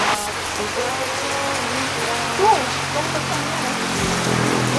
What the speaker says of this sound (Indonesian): hujan ya hujan